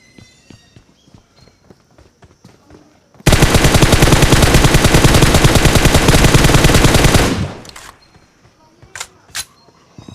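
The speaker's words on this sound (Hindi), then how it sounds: "लेकिन फायरिंग बाहर से आती है" Sustained automatic rifle fire in the PUBG battle royale game, a dense rapid burst of shots lasting about four seconds, loud and close, with scattered softer game sounds and footsteps before and after.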